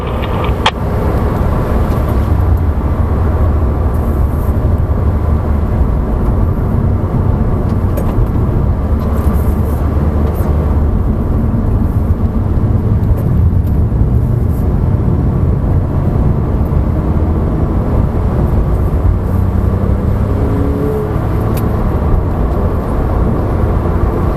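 Porsche lapping a race track under throttle on a driving-school course, a loud, steady engine roar with wind and road noise filling the whole stretch without a break.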